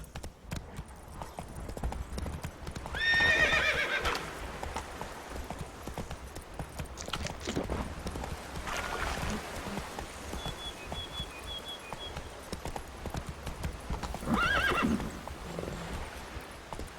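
In The Witcher 3 video game, horse hooves clip-clop steadily at a walk across the whole stretch. A couple of whinnies and snorts rise above the hoofbeats, with faint birdsong in the background.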